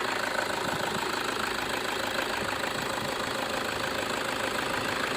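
Used car with a 2.5-litre turbo diesel engine idling, a steady, dense mechanical rumble with a faint knocking texture that runs unbroken and fairly close throughout, with no voices.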